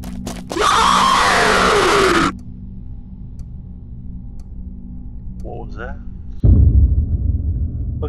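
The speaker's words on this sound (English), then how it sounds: "So it's just a jump scare." Horror video game jump scare: a sudden loud, harsh burst of noise lasting about a second and a half, then a quiet droning background with faint sounds and a later low rumbling swell.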